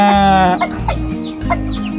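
A rooster gives a loud crow, then several close, throaty clucks follow in a quick, uneven series.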